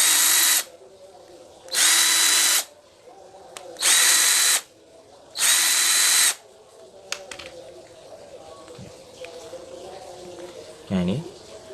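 A power drill with a 1.5 mm bit whirs in four loud bursts of under a second each, drilling through a gear, separated by short pauses, followed by quieter handling noises and a faint voice.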